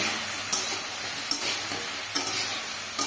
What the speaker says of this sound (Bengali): নাড়া দিয়ে আবার এটাকে ভালো করে ভেজে নেব